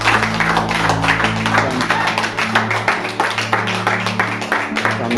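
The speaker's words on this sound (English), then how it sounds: "We give a round of applause." A community group claps together in a steady rhythmic round of applause, loud and close, over a low droning hum.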